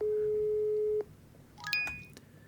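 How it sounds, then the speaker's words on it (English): A phone call is dialed in the video game Office Simulator: a steady electronic tone holds for about a second, then a quick cluster of short, clean beeps follows, faint and without talk. "Phone call to make, 999 212 2645, done."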